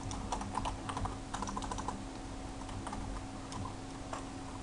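Steady, close typing on a computer keyboard while entering text into a WordPress post editor, with rapid clustered keystrokes running throughout and a constant low hum underneath.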